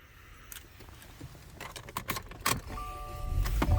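Inside a 2021 Subaru Outback with a traditional key, keys jingle and the ignition clicks before the engine cranks and catches, settling into a low steady idle near the end.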